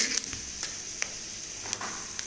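Chana dal dropped into hot oil already holding asafoetida, sizzling steadily with a bright hiss and a few sharp crackling pops, close and alone.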